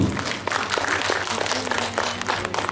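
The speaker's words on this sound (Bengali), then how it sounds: "হাততালি হবে না একটু" An audience claps at a recitation and audio-drama event at Rabindra Sadan in Baharampur, with dense, moderately loud applause running throughout and a voice speaking over it.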